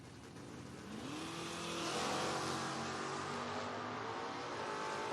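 A 1970 Chevelle and a 1967 Barracuda square off in a footbrake drag race, their engines roaring loud and close with revs climbing in pitch, a continuous throaty howl with no voices.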